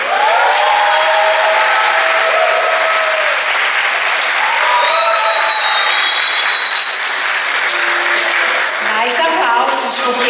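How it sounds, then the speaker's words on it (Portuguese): Loud, sustained clapping from guests at a fifteenth birthday celebration, with tonal squealing and voices running over the continuous applause. "Mais aplausos, porque ela merece."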